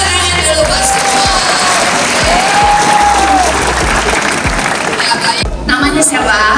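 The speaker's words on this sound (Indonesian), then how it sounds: "Tepuk tangan dulu buat semua" A school audience at SMP Negeri 1 Sumber breaks into loud, sustained applause with cheering and whoops, dense and close throughout, with voices mixed into the crowd noise.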